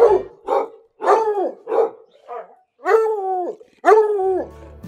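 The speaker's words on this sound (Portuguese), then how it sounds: "o clássico famoso cachorro caramelo vira-lata, o tal do SRD, sem raça definida" A caramel-coloured mixed-breed stray dog barks close by in about seven loud, drawn-out, slightly howling barks, spaced irregularly, with no talk.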